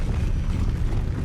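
The Depulso spell from Hogwarts Legacy releases a brief, loud, rumbling blast that fills the short moment with a dense, steady roar.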